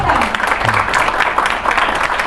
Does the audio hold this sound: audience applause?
yes